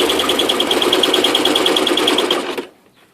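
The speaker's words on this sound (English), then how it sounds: "you will then turn it around and sew your 1/4 inch" Sewing machine stitching a quarter-inch seam on a zipper pouch, a loud close rapid rhythmic needle chatter for about two and a half seconds that cuts off abruptly.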